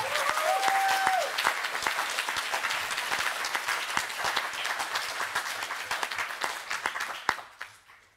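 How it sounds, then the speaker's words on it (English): An audience applauds loudly and steadily for several seconds, the clapping tapering off at the end. "please give up a big applause for Betty Lachgar."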